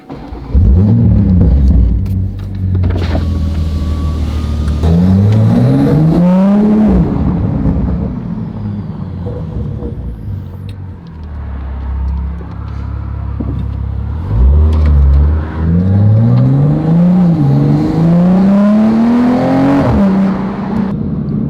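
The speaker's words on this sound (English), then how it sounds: "here's a little cold start from inside the car." A widebody Toyota Supra MKV fires up on a cold start and revs in deep, rising surges, heard from inside the cabin, settling into a rough rumbling idle between bursts of throttle.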